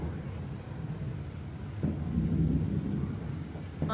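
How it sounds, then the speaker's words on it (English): Low rumble of thunder from an outdoor storm, rolling steadily for several seconds and swelling near the middle, with a muffled background wash and no talking. "Thunder."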